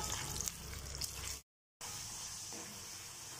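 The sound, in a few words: potatoes frying and sizzling in oil for nimona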